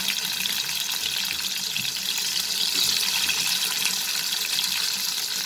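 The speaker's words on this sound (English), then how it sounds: "now in that same kadhai I have heated 3 tablespoons of oil, plain oil, and I'm going to fry these vegetables" Cauliflower, French beans and carrots fry together in three tablespoons of hot plain oil in a kadhai, a steady, dense sizzle that holds evenly throughout, close and alone without any talking.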